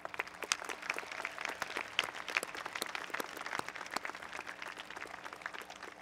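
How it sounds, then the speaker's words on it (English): Scattered applause from a high school graduation crowd, faint and distant, made of individual claps rather than a dense roar. "please join me in a round of applause for them now"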